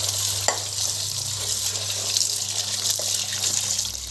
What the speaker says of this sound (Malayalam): ഇത് നമുക്ക് നന്നായിട്ട് കഴുകിയെടുക്കാം.